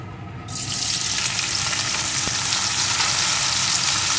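Chopped onions hit hot oil with whole spices and a bay leaf, starting a loud, continuous sizzle that holds steady close by with faint stirring.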